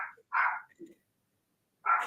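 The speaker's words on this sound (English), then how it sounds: "Toby heard you coming in, and he's barking." A dog barks indoors in a few short, fairly close bursts with gaps between them, and the barks sound muffled and moderately loud.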